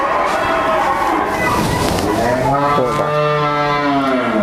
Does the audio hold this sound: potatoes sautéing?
no